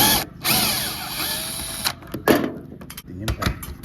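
Impact driver backing out the screws of a satellite dish mount on a roof, whirring in short close bursts with a loud ratcheting burst near the end and speech mixed in between.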